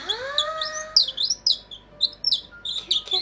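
A handheld bird call device imitates a Japanese tit: a rising whistle opens, followed by a quick string of sharp, bright chirps repeated close and loud.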